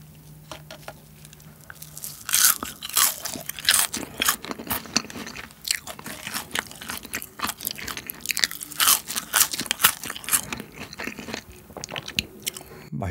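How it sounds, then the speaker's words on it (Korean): Crunchy Burger King french fries bitten and chewed up close, a rapid series of loud crisp crunches and smacking mouth sounds continuing for several seconds. "한번 먹어볼게요. 감튀 먼저."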